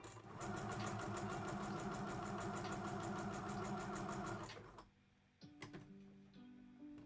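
A sewing machine stitches a kid's dress sample in a rapid, even mechanical chatter that runs steadily for about four and a half seconds, then stops, leaving a few soft clicks and handling sounds.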